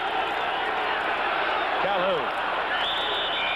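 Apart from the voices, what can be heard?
stadium crowd cheering at NFL football game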